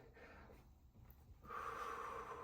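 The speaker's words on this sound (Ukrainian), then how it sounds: "сконцентруйтесь на диханні. Глибокий вдих" A single slow, deep breath drawn in through the nose, close and audible against a quiet background, with no talking.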